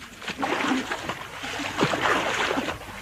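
Busy watery splashing and sloshing of sea water churns continuously, close by, with a few brief voice-like sounds mixed in, a sound effect in The Goon Show radio comedy.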